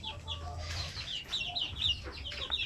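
Native chickens at a farm cluck and chatter in short, repeated bursts, a few birds close by with faint background noise and no talk.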